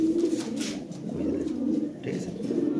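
Pigeons coo in a low, steady murmur that continues throughout, with a faint flutter of wings nearby and no voices.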